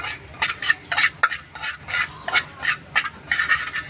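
Black cumin seeds fry in a dark wok in a village kitchen, with repeated spatula scrapes and stirring strokes over a soft, steady sizzle, close and moderately loud, with no talking.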